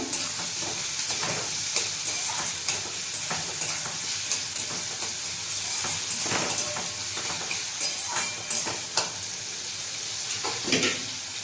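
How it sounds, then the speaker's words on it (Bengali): Mixed vegetables fry lightly in a pan for a bottle gourd kofta curry, giving a steady close sizzle broken by frequent scraping stirs of a utensil, with no talking. "হালকা করে একটু ভেজে নেব"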